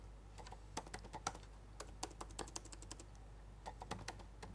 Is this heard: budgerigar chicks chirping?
no